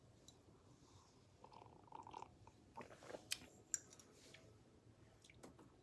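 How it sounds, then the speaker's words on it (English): Someone sips coffee close to the microphone, producing soft, intermittent slurps and wet mouth clicks over a quiet room. "I'm sorry if you guys don't like the sound of me sipping coffee."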